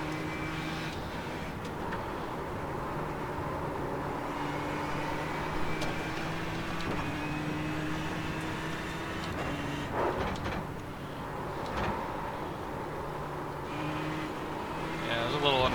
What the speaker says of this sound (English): you can really hear the car kind of, you hear the revs